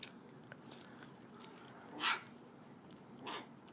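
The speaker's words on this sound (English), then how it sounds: "Who's barking?" Two short barks, one sharp and one softer a second later, from a dog nearby against a quiet room with faint background noise.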